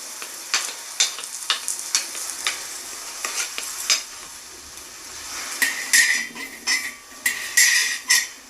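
A spatula scrapes and taps against a pan as fried okra is stirred, giving sharp, quick, uneven clinks and scrapes over a soft sizzle, close and loud, with no talking.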